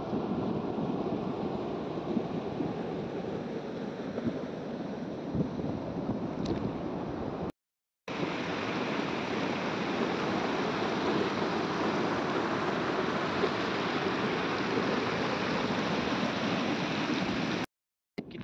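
River water rushes over a weir in a steady, loud broadband roar, buffeted by wind on the microphone, with two brief dropouts and no talk.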